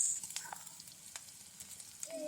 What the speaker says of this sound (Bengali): এবার আমরা এই পেঁয়াজ রসুনগুলো ভেজে একেবারে বাদামি করে নিব।